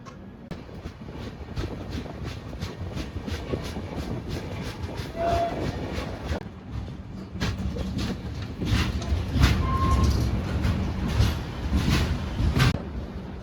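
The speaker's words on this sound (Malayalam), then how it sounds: "നമ്മുടെ ട്രെയിൻ ഇപ്പോൾ വർക്കല റെയിൽവേ സ്റ്റേഷൻ എത്തിയിരിക്കുകയാണ്" Trivandrum North Express passenger train at Varkala railway station in Kerala, with steady rumbling and repeated rhythmic clicks of wheels over rail joints, heard from on board and growing slightly louder toward the end.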